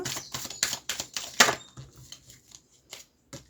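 Tarot cards being drawn and shuffled, a quick run of close, crisp papery snaps and flicks that thin out into a few soft taps.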